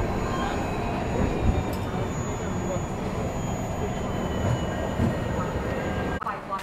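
A Chennai Rajdhani train arriving at Balharshah station, a steady low rumble of wheels on rails heard from inside the coach, continuous and moderately loud, with faint voices in the background.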